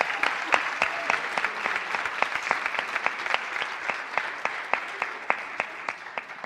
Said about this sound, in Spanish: Un aplauso para Martu.